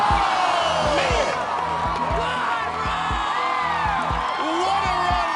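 Finals crowd at American Ninja Warrior cheering and whooping as a competitor makes her run, a dense, steady roar of many voices that holds throughout, with a voice talking over it.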